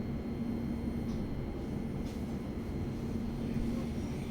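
Thameslink passenger train at Otford station, a steady low rolling rumble with faint brief squeals, constant and fairly close, no voices.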